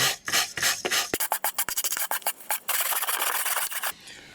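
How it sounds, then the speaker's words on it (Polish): Rough, rasping scrapes of metal against rusty metal balcony flashing, a burst of quick strokes followed by longer steady scraping, close up with no talking. "oczyszczę ten rdzetek przynajmniej z grubsza"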